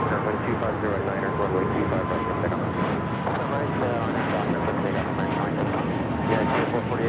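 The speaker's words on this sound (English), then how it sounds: "This is Breeze Airways 709 taking off to Pittsburgh on the A220-300." Breeze Airways Airbus A220-300 jet, flight 709 to Pittsburgh, takes off from Los Angeles LAX with a steady, loud engine roar that holds throughout, while a person talks over it.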